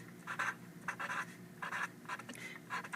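Pen strokes scratch on paper in short bursts with brief pauses between, close and quiet, as a word is written out on a classroom foldable.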